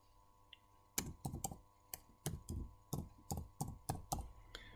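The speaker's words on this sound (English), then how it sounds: "And I type in biometrics." Keys on a computer keyboard click in short, uneven bursts of typing, close and quiet in a still room.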